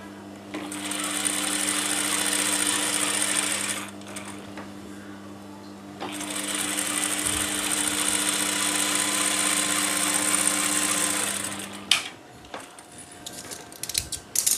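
A sewing machine runs in two long bursts of steady, loud stitching on a sample of a pointed-collar blouse with folded pleats, with a short pause between the runs and handling clatter at the end.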